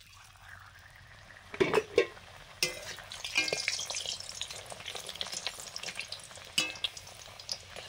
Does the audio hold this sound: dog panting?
no